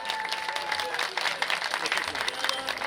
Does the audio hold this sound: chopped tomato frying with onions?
no